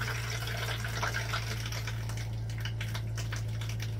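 RV fresh water pump running steadily while filling the fresh water tank, a constant low mechanical hum with a rushing water hiss over it, close and unchanging throughout.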